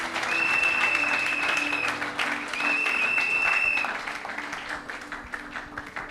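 Church congregation applauding and cheering for the Lord in a French-language worship service, a loud sustained burst of clapping with a whistle-like tone, easing and then fading toward the end.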